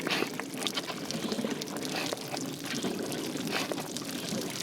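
Water pours steadily from a foot-pump camp shower onto a dog being washed outdoors, a continuous close splashing hiss with slight surges in strength, no talk over it.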